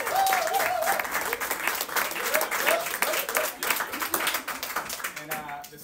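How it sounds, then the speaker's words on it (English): Audience applause fills a live music venue, The Monarch, with steady dense clapping and some whooping, fairly loud and sustained before tapering off near the end. "the sound of that applause is for very good reason"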